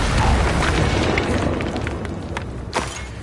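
An Incendio fire spell from the game Hogwarts Legacy bursts in a loud, roaring blast that fades over a few seconds, with a couple of sharp crackling pops and a final burst near the end.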